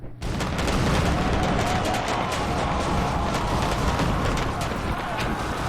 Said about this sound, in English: pin them down, and kill them with the heavy artillery